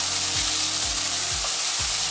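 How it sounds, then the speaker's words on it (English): Onions fry in a hot pan with a loud, continuous sizzle while a utensil stirs them, sweeping through roughly every half second in a steady, repeating scrape up close. "Just wanna keep stirring it until you've got that onion looking a bit caramelized, nice and fried."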